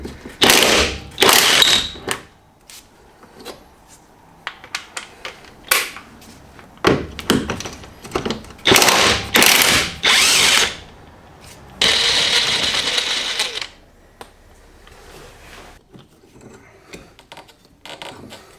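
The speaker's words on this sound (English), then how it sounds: "I'm going to start by taking out these two 17-headed bolts." Two 17 mm bolts being loosened on the front suspension of a BMW E30 with a rattling impact tool: loud, close, irregular bursts of hammering and ratcheting, separated by pauses and one longer sustained run.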